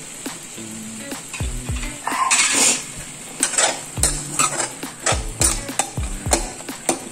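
Cashews and softened tomatoes roasting in a pan for restaurant-style shahi paneer, with a soft sizzle under repeated clinks and scrapes of a metal spoon stirring against the pan.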